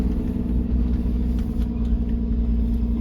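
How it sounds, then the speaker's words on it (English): Truck engine brake on a tractor-trailer hauling a fifth-wheel down a hill on the old Santa Fe Trail near Cimarron, a steady, loud low rumble that holds without a break for the whole stretch, with no talk over it. "here we go down the hill with the Jake on"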